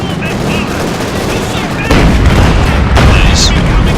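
Rapid gunfire and heavy blasts fill a Company of Heroes 2 battlefield, with machine-gun bursts rattling continuously and two louder booming explosions landing near the middle and end.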